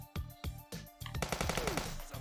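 Gunfire in the police video game Police Stories: a few spaced single shots, then a rapid burst of automatic fire, loud and close, with no talk over it.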